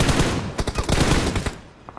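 Rapid automatic gunfire rattles in BGMI gameplay, a dense burst of close, loud shots lasting over a second before it trails off into quieter scattered sounds.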